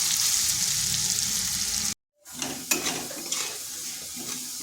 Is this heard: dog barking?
no